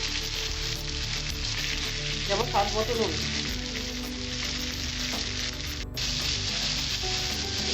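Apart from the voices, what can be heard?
carrot, onion and capsicum frying for fried rice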